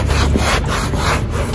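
Close, loud rubbing of a cloth across a motorcycle seat in a few back-and-forth strokes, a continuous scratchy swish.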